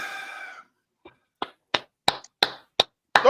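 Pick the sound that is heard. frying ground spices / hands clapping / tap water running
hands clapping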